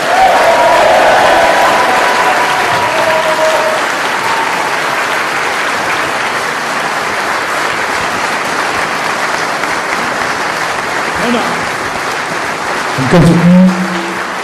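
Crowd applause at Boris Johnson's Vote Leave launch speech in Manchester, long continuous loud clapping from a big hall audience, with a voice breaking in near the end.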